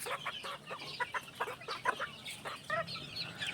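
Chickens at a gamefowl farm clucking in quick, uneven bursts, fairly close and moderately loud, with a faint background hum.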